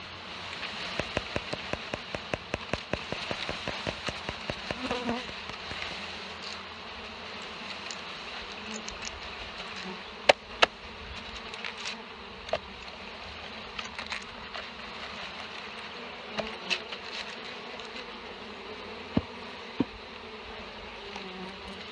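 A dense swarm of honeybees buzzes continuously as a package is knocked down and poured into a hive, with sharp taps and knocks scattered through the humming.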